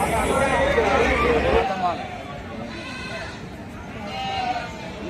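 Sheep and goats bleat at a village livestock market while people chat and a babble of voices fills the background, with calls repeating near and loud.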